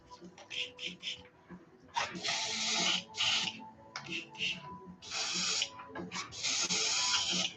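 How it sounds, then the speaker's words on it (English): Repeated rasping scrubs of a brush working thick paint out during lure painting, in several bursts with short pauses between them, close and moderately loud. "So bear with me while I scrub this."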